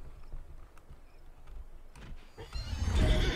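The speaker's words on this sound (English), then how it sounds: "Best goddamn horse in the Wild West" A horse in the Disney Infinity Lone Ranger video game gives a loud, drawn-out whinny that swells toward the end, preceded by scattered game clicks and thumps.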